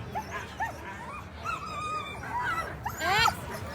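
Sled dogs at the start of the Fur Rondy Open Class World Championship sled dog race on 4th Avenue bark, yip and whimper excitedly in a rapid, overlapping chorus, with crowd noise and voices mixed underneath.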